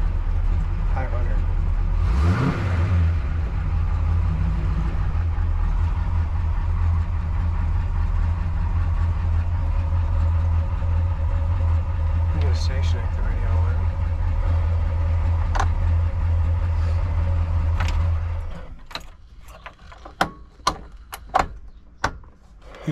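A 1966 Pontiac GTO convertible engine idles steadily with a low rumbling drone, voices talking over it, then the engine cuts off and a few sharp knocks and clicks follow.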